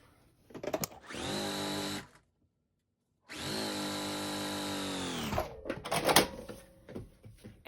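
A sewing machine stitches mint-colored fabric strips for a bookshelf quilt border, running in two steady bursts of about a second and two seconds, separated by a silent pause and followed by rustling and handling sounds.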